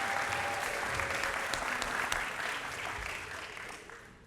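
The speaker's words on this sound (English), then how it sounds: "Now you can clap." An audience at a university panel on the Free Speech Movement applauds, with a full burst of clapping that gradually fades over a few seconds.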